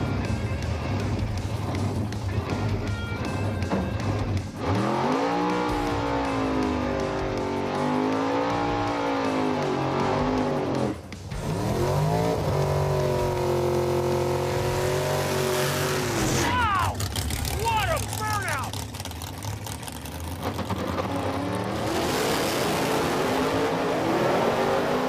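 Drag racing cars, Finnegan's Blasphemi and Freiburger's F-Rod, roar loudly and continuously as their engines rev and accelerate, pitch rising and falling through several sweeps, with faint voices underneath.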